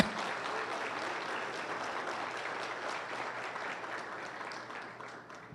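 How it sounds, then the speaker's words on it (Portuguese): A church congregation applauds steadily and loudly, a dense sustained clapping from the whole room that holds for several seconds before tapering slightly at the end, with no voices standing out. "Aplauda o Senhor"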